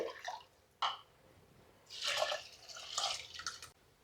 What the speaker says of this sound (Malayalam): ഒരു കപ്പ് കൂടി വെള്ളം ഒഴിച്ചു കൊടുക്കുന്നുണ്ട്